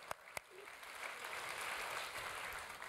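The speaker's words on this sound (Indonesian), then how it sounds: "boleh tepuk tangan lagi, boleh." Church congregation applause during a sermon, opening with two sharp isolated claps before a soft, building wash of clapping from across the room, faint and distant.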